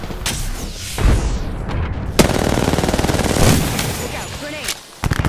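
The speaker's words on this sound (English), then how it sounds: "Taking fire." Rapid automatic gunfire rattles in close, loud bursts during an Apex Legends fight, mixed with sharp individual shots and booming impacts, while a character voice calls out.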